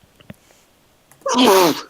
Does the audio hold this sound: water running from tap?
no